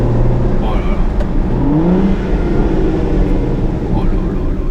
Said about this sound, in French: Je me permets d'écouter ce moteur.